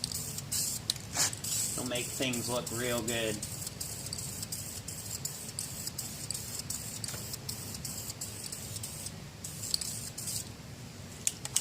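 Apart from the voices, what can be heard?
aerosol spray painting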